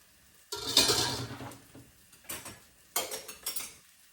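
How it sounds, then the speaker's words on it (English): Chopsticks stirring a liquid seasoning mixture in a bowl before ground pork goes in, heard as two bursts of quick scraping and clinking against the dish, close and moderately loud, separated by a short quiet gap with no voices. "I'm just going to use chopsticks. I could mix everything evenly."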